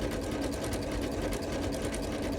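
A sewing machine stitches a coiled rope bowl with a fast, even mechanical whir and rapid needle ticking, close up and continuous without talk.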